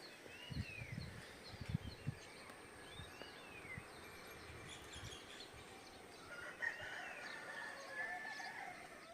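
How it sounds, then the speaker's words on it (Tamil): Chickens cluck softly at a distance while a rooster crows a few times, with faint outdoor ambience and no talking. "கோழி சேவல் ரெண்டுமே இருக்குது."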